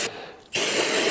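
A steady hiss of aerosol spray inside a 2011 Hyundai Elantra around the seals and gasket, close by, cutting out briefly and then resuming in a second continuous burst.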